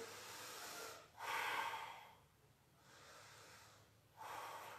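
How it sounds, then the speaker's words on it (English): Slow, steady breaths through the nose during a yoga pose, close and quiet, with two clear inhale-exhale cycles separated by brief pauses. "For now, take some steady breaths through the front body."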